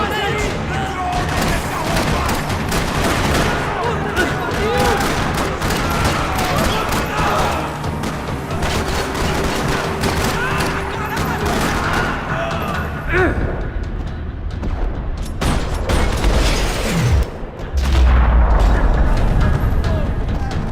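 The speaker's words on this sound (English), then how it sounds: "Another parking lot rattling with gunfire." Dense gunfire rattles through a parking lot in the game Max Payne 3, loud, continuous bursts and booms layered over one another, with a heavy thud near the end.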